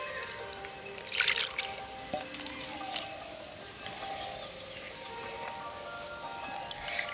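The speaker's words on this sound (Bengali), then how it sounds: "আবারও আমি জলটাকে ছেঁকে নিচ্ছি।" Water strained off soft chhena cheese made for rasmalai, a light trickle and drip with a few brighter splashy bursts early on, then a quieter steady dribble, close by with no talk.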